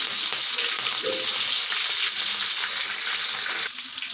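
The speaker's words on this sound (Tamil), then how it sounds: "வெங்காயம் ஆட் பண்ணிக்கிட்டு அது கூடவே நல்லா வதக்கிக்கிறேன்" Onions being sautéed in a pan make a loud, continuous close-up sizzle, with faint stirring scrapes mixed in.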